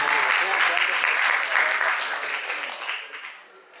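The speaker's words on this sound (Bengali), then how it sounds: "ভাইয়ের জন্য জোরে একটা হাততালি হয়ে যায়।" An audience at a cultural evening gives a playwright a loud, dense round of applause that holds steady, then tapers off near the end, with some voices mixed into the crowd noise.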